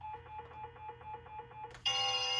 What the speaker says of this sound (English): Ringtone custom.